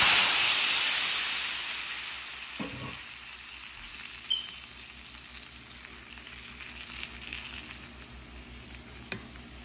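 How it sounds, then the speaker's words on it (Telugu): Sambar tempering with asafoetida frying in hot oil: a steady, soft sizzle and hiss, strongest at first and then settling, with a few faint clinks and stirring sounds and no talking. "పోపు కూడా వేగుతుంది, సాంబార్ పోపు కూడా వేగుతుంది చూడండి."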